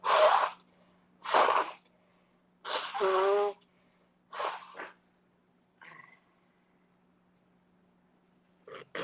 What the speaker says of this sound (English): Sorry if anybody heard me sneezing and snorting like a pig